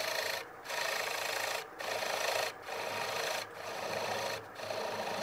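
A half-inch spindle gouge shear-cutting a calabash bowl of wood on a lathe, a steady close rasping scrape in five passes separated by brief lifts of the tool, with no voices.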